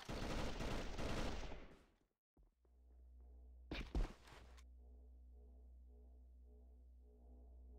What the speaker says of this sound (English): They're pre firing everything